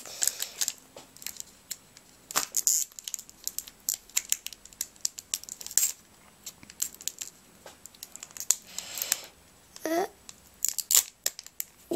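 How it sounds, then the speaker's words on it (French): Foil wrapper of a Pokémon card booster pack being torn open, with crisp crinkling and ripping bursts scattered over several seconds, close and fairly loud. "C'est la première fois que je réussis à ouvrir un booster pareil."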